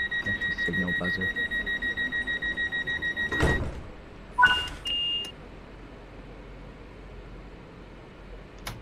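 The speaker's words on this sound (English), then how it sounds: "I should signal buzzer" A train signal buzzer in Train Sim World 3 sounds a steady, rapidly pulsing electronic buzz for a few seconds, then stops; a couple of short clunks and a brief tone follow against quiet background hiss.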